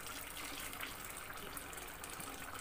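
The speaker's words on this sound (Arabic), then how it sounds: "هو طبعا محتاج مية، نزود مية" Hot water poured into a cooking pot of rice for homemade koshari, a steady close gushing stream that runs without a break and without speech.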